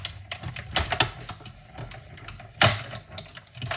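A hand-cranked die-cutting machine cuts paper with a run of quiet, uneven mechanical clicks and clatter. A louder crunch comes near the end.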